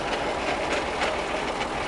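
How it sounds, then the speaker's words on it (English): Steady mechanical pumping of biodiesel from a drum by a borehole drilling machine's pump during a delivery: a continuous, loud broadband whir and rattle with no pauses. "It's being pumped from the drum."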